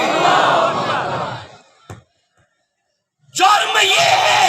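A large religious gathering in Layyah responds in unison to the Nara-e-Takbeer call, a loud roaring shout that swells and fades, then a brief silence before another mass shout erupts.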